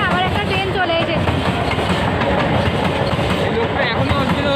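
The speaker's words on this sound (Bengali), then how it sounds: "আবার একটা ট্রেন চলে এসেছে" Another train rolls through a level crossing nearby, a loud, continuous rumble and clatter of wheels on rails with faint horn tones mixed in.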